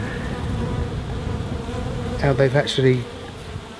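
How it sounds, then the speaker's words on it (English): Steady buzzing of many honey bees around a wild colony's hive during a cutout, close and continuous, with a brief voice speaking over it near the end. "There's a lot of bees coming in this hive"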